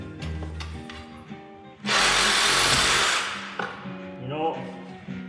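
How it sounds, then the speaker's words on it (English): Reciprocating saw cutting the hardened steel shaft of a Smart car front shock absorber, a loud harsh grinding burst of about a second and a half between quieter workshop clatter and tones, with no talk over it. "I'm thinking that that shaft is probably harder than the sawzall blade"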